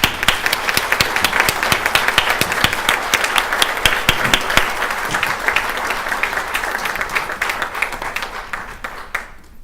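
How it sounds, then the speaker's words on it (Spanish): Sustained applause from an audience at a tribute ceremony honouring a Supreme Court minister, dense clapping filling the room for several seconds before tapering off and stopping abruptly. "Un aplauso se merece usted, señor ministro."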